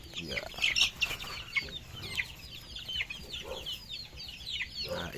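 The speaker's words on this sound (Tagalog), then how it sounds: "ito na ang aming mga sisiw. Yan. Yan ang mga sisiw namin." Chicks peeping in a farm enclosure, with repeated high thin calls scattered throughout and occasional louder clucks from older fowl nearby, moderately close.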